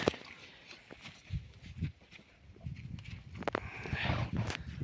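Horses, mares among them, moving about a village farm yard, with soft irregular hoof thuds and shuffling close by, and a few louder knocks between quieter stretches.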